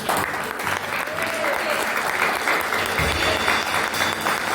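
A church congregation applauds steadily, with a continuous wash of clapping that holds at an even level from start to finish, alone and with no voices on top.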